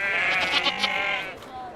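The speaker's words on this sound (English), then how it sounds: "Go sheep, go." Sheep in the video game I Am Jesus Christ let out a quivering, sustained bleat that lasts over a second, close and clear, then fades into quieter game background.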